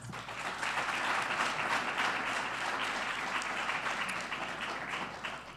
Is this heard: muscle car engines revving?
no